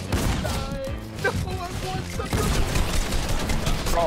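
Video game gunfire crackles in rapid bursts during a multiplayer shooter match, with voices talking over the shots and dense, busy game sounds around them.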